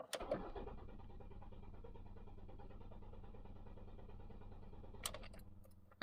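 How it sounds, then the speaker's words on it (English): Starter cranking a 2008 Ford Focus engine with a dead fuel pump, a steady rapid churning that runs for about five seconds without catching, followed by a brief sharp clatter near the end. "So now we're gonna try to start the car."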